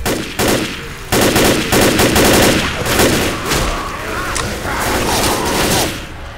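Rapid, sustained bursts from a mounted machine gun turret in Left 4 Dead, loud and close, chattering in quick repeated volleys with brief gaps and faint battle noise underneath.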